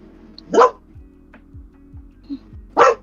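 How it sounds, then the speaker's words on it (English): A dog gives two loud, close barks a couple of seconds apart, with faint background tones and small noises between them. "I'm not sure if you can hear him barking."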